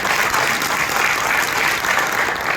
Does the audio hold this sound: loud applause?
yes